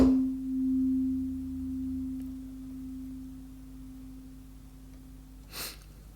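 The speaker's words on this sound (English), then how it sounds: "just pure sine waves that you are hearing here." A steady, pure sine tone from the Dexed FM synthesizer plug-in, a DX7 emulation, hums at a constant pitch for several seconds, then stops, followed by a short breathy noise.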